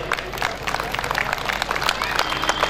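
An audience claps for students at an award ceremony at Ramlila Maidan, a dense, steady patter of many hands with crowd murmur and a voice talking underneath.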